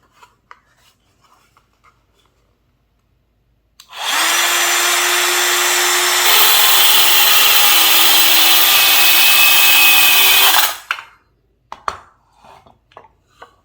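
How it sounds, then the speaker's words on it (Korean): A Bosch GKS 10.8V-LI cordless circular saw makes one cut along a guide. It runs as a loud, steady, whining roar for about seven seconds, with quiet handling noises before and after and no voices. "가이드를 대고 한번 잘라 보도록 하겠습니다"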